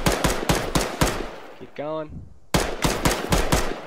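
Rapid single gunshots in the video game Arma 3 as a player shoots his own character, sharp evenly spaced cracks in two runs broken by a short spoken phrase in the middle.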